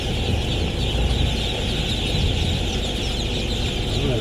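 Itik Pinas ducks on a large duck farm give a dense, continuous chorus of quacking from many birds at once, moderately loud and steady throughout, with no speech over it.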